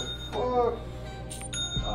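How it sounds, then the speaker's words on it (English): Phone notifications chime several times in quick succession, bright, ringing, bell-like tones that sound close and clear, with voices faintly underneath. "I've never heard notifications like that."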